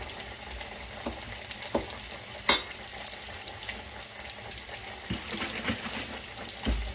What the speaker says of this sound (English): mix your buttermilk in it.